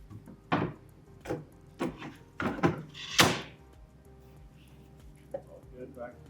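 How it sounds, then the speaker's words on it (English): Wooden drawer being pushed back into a built cabinet, giving several sharp knocks and thunks spread over a few seconds, close and fairly loud, with a quiet room background between the impacts. "this last part, put the drawer back"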